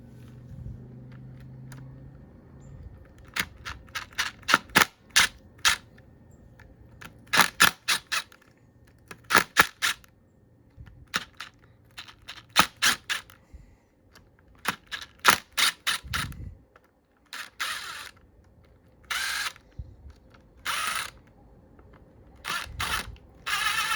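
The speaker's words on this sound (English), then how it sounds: "So I'm gonna take this screw out. I'm gonna take all these out." Ratcheting clicks come in quick rapid bursts as screws are backed out of the engine cover of a 1998 Honda CR125R, close and crisp with short pauses between runs.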